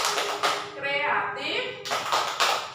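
Rhythmic clapping from a school group doing the Pancasila student profile clap chant, sharp claps at the start and end framing a chanted vocal passage, close and moderately loud.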